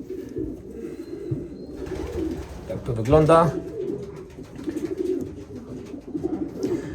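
A young female pigeon coos close by in a short burst, with someone speaking over soft background noise before and after.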